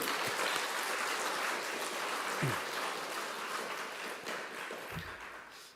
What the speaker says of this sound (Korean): 정말 괜찮은 박수도 쳐주고